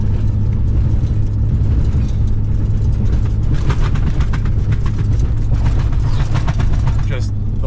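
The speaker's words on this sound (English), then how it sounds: "Just the washboard though, the truck is hopping." Dodge truck hopping over washboard on a snowy bush road in Alberta, a loud steady engine and road rumble with rapid rattling jolts building toward the end.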